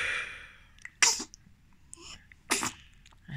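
Two sharp, close sneezes, each with a quick breathy intake before the burst, separated by a short pause.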